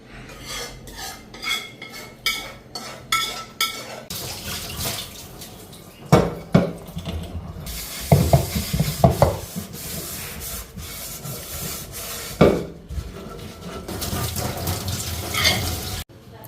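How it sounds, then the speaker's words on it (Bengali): Scrubbing and clattering of a metal wok in a sink, with running water and scraping strokes, some louder knocks, fairly close. "কড়াইটা ভালো করে ধুবো, মাছের কড়াই না।"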